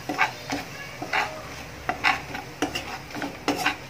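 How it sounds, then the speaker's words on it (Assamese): Powdered spices being stirred in a frying pan while cooking chole paneer, giving a series of scraping strokes of a spoon against the pan, about eight in a row, over a soft sizzle. "মই এতিয়া ইয়াত দি দিম মই লোৱা এয়া পাউডাৰ মছলাখিনি, আৰু ভালদৰে লৰাই দিম।"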